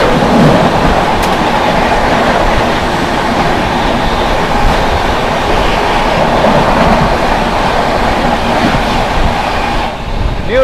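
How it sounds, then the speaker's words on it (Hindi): New Delhi–Dibrugarh Rajdhani Express train rushing past close by, a loud, sustained roar of wheels and carriages with rhythmic clatter throughout, ending abruptly as the last coach clears. "चलिए दोस्तों सामने से आ रही है न्यू दिल्ली डिब्रूगढ़ राजधानी एक्सप्रेस।"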